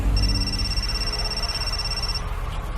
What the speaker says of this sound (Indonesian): tiba-tiba handphoneku berbunyi